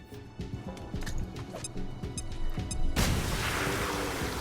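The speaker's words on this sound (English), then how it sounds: "Throwing grenade." A grenade explosion in the video game XCOM: Chimera Squad: a sudden loud, broadband blast about two-thirds of the way in, then a lingering rumble. It is preceded by scattered game clicks and low tones.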